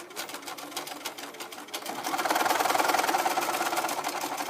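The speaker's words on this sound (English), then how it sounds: "back stitching" Sewing machine runs close and loud, back stitching fabric for a cape welt opening, its rapid needle rhythm speeding up midway into a denser, steady mechanical whir.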